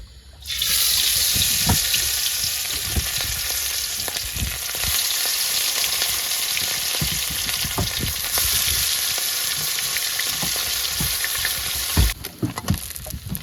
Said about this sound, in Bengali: বন্ধুরা তেল গরম হয়ে গেছে, এবার কিন্তু এক এক করে মাছগুলো সব ভেজে নেব।